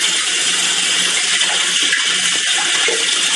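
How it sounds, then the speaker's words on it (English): Lukewarm tap water runs steadily into a sink while cheesecake is being made, a continuous broadband hiss with light splashing and no voices. "Now we'll use some lukewarm water, cold water."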